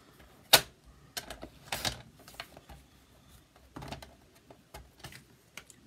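A paper trimmer cuts a strip of Whisper White cardstock at a crafting table, giving a few short, close slicing and clicking sounds separated by quiet gaps, without talk.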